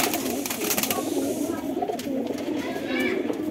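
Pigeons just released from their pens coo in low, repeated rolls close by, mixed with flutters and someone talking throughout.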